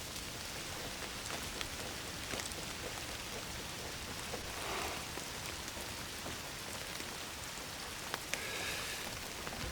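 A continuous wash of rain patters on surfaces in an Indiana Jones and the Great Circle cutscene, faint and uniform throughout, with scattered individual drops standing out and no speech.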